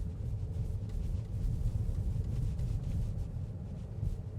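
A 2026 GMC Acadia Denali on 22-inch wheels rolls over rough terrain, producing a steady low road rumble and muffled cabin noise, with no one speaking.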